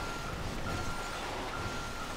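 Truck reversing alarm in Grand Theft Auto V, a steady repeating electronic beep pulsing over low engine rumble, fairly close and alone without talk.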